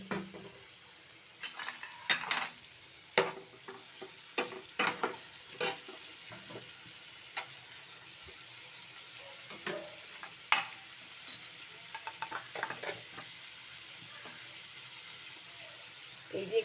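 Vegetables hit a frying pan for a Bengali cauliflower curry and are stirred, giving bursts of sizzle and scraping spoon strokes at an uneven pace over a steady low hiss.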